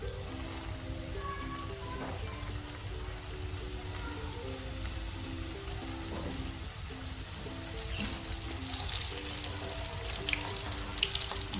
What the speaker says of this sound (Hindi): अब ये मैं हल्की आंच पे तेल को गर्म किया है तो इसमें डालने लगी हूँ।